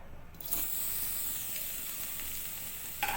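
Grated coconut with jaggery is cooked in a wok as a pitha filling: a sudden burst of close sizzling hiss starts just after the opening and holds steady, ending with a brief clatter.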